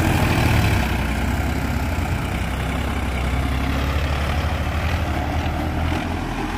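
A Swaraj tractor engine runs steadily nearby, a loud, low diesel rumble with even throbbing and no voices.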